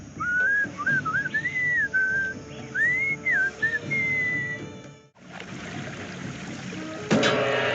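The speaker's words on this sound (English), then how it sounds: "What is that enchanting whistling sound?" A lilting, melodic whistled tune from the Sam & Max Remastered video game, in the episode Moai Better Blues, rises and falls clearly for about four seconds. It then falls silent and a steady ambient wash carries on alone.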